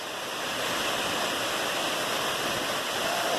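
Laurel Falls in Tennessee pours in a steady, dense roar of falling water, close and continuous with no voices over it.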